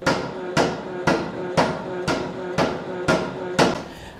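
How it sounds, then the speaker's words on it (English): A heavy hammer pounds a red-hot metal ingot, eight loud, ringing blows landing at a steady, even pace about half a second apart. "by hammering the ingot very hard with a heavy hammer when it's really hot"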